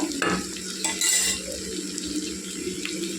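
Cluster beans cook in oil in a pan, sizzling softly while a spoon scrapes and stirs them in a few quick clattering moves, close by and without voices.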